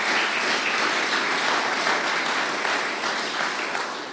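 Steady audience applause at a Springfield community health center announcement, a dense even wash of clapping that fades slightly at the close.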